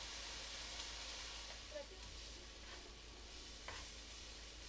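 Onions sweat gently in a pan ahead of ground beef, a faint, even sizzle under a low hum with a couple of soft utensil knocks.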